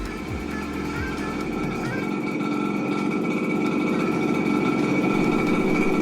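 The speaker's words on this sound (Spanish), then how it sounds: "Vemos cómo acelerando la moto la luz no varía, e incluso a pocas vueltas la luz sigue siendo muy buena." A Suzuki AX 100 motorcycle engine runs close by in a steady, rough idle that swells slightly as the throttle is opened, a continuous mechanical drone with no voices.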